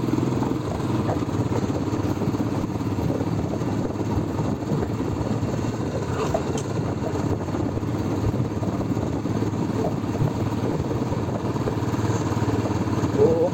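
Motorcycle engine on a foggy ride near Kemmangundi, Chikkamagaluru, a steady close drone that holds unbroken throughout with a faint buzzing edge.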